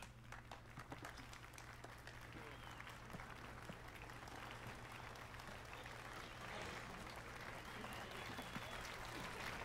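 Steady crowd applause in The Witcher 3 fills the air, a dense wash of many hands clapping at once, continuous and even throughout.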